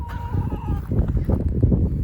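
Fowl calling close by, a wavering cluck-like note followed by a burst of overlapping gobbling and clucking.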